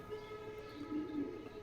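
Traffic noise from a nearby road drifts in at a distance as a low steady rumble, with a brief louder swell of a passing vehicle near the end.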